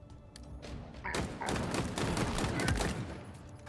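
Mounted guns firing in Halo Infinite, rapid bursts of heavy shots and thuds that start quiet and swell into a loud, continuous fusillade.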